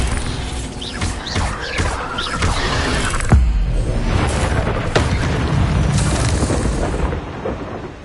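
The Bombarda spell in Hogwarts Legacy sets off deep, rumbling booms, with heavy impacts landing about midway over a dense, loud bed of game combat noise.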